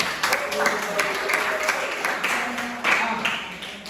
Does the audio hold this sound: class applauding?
yes